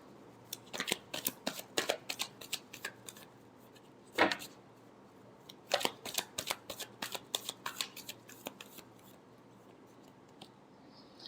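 Tarot cards being shuffled in quick riffling bursts, a dense run of crisp flicks, a pause with one sharp slap, then another long shuffle, close and fairly quiet with no talk.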